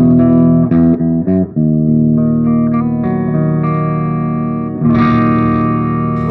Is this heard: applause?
no